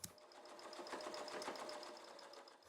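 A sewing machine top stitching through red fleece, running steadily at close range with a fast, even mechanical whir and rhythmic needle ticking for a few seconds.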